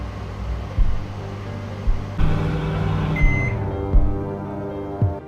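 A microwave oven hums steadily while toasting bread, with a few soft thumps and a brief tone in the middle before the drone continues.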